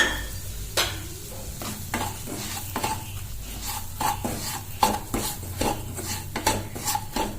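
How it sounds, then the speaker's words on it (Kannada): Chiroti rava (fine semolina) roasted in a pan while being stirred, giving a series of sharp, close scraping strokes of a spoon against the metal at an uneven rhythm over a soft frying sizzle. "ಈಗ ಇದಕ್ಕೆ ತಗೊಂಡಿರುವಂಥ ಚಿರೋಟಿ ರವೆನ ಹಾಕೊಂಡು ಚೆನ್ನಾಗಿ ಹುರ್ಕೋಬೇಕು."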